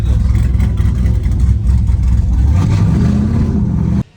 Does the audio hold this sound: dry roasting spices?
no